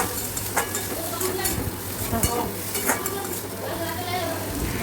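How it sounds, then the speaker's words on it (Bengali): Chopped tomatoes frying in a pan for semolina upma, a steady close sizzle with regular scraping and clinking of a spatula as they are stirred. "টমেটো কুচি দিয়ে নাড়াচাড়া করার পরে কিছুক্ষণ নাড়াচাড়া করব"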